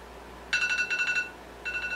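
A mobile phone notification chimes as two bursts of bright, rapid electronic beeps with a short gap between them, clear and fairly loud over a quiet room hiss.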